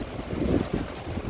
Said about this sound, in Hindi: तो आपको इसकी हवा फील हो रही होगी कि कितनी तेज़ हवा ये फेंक रहा है